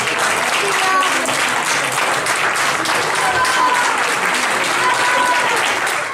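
A concert audience at a performance by a gralla band claps loudly and continuously, a dense, sustained wash of applause with faint voices mixed in.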